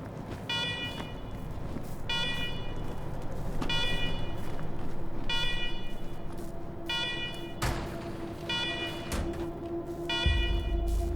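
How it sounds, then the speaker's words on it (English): Alarms blare inside a secure government facility in the video game Wasteland 3, a repeating electronic warning tone in regular bursts roughly every second, steady and moderately loud with a low hum beneath. "let's talk after you kill the alarms. I can hardly hear myself think."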